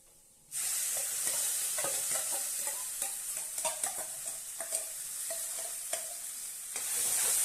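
Roasted lentils and semolina stirred steadily in a hot pan for Chettinad ukkarai sweet, with a continuous sizzling hiss and repeated scraping clicks of the spoon against the pan.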